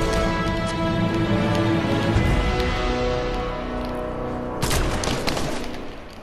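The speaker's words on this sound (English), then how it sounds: "we're getting shot by a sniper rifle in Fortnite Battle Royale" Sniper rifle fire in the video game Fortnite Battle Royale: a dense, sustained barrage of game gunfire and booming impacts, with a sharper burst near the end, loud and continuous throughout.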